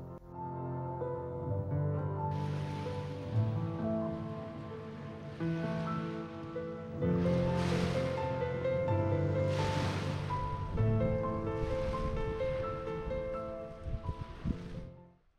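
Surf washes onto the long grey-pebble beach at Nonza on Cap Corse, Corsica, in several rolling swells that rise and fall at a moderate distance. A steady tonal hum runs underneath, and no one speaks.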